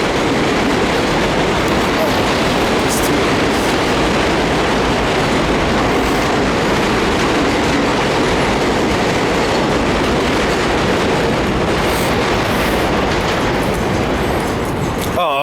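A train passes at close range, a loud continuous rumble and clatter of wheels on rails that fills the whole stretch without letting up.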